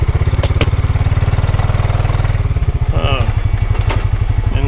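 A 520 logging machine's diesel engine runs close by in the dark while being driven onto a trailer, a steady low throbbing idle with a slight rise in revs partway through and some faint clatter.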